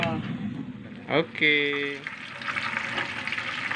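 Catfish frying in hot oil in a pan, a loud bubbling sizzle and crackle that flares as pieces go in, with a brief word spoken over it.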